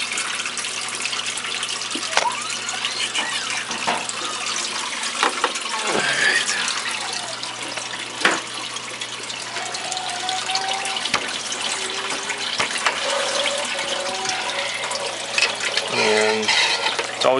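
Tap water pours steadily into an aquarium being filled during setup, a continuous splashing flow with occasional clinks and handling noises, while a person speaks nearby.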